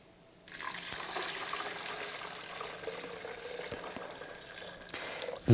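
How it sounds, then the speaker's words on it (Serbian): Spring water pours onto soaked walnuts in a container, producing a steady close splashing and gurgling stream that starts suddenly and runs for about five seconds, with a small clunk at the end. "Dodaću izvorsku vodu."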